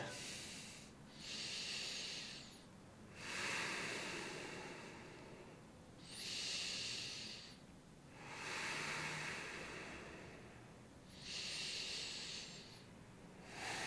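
Slow, deep breaths during a yoga strength workout, heard close up as about five long airy inhale-exhale cycles in an even rhythm, with no talking.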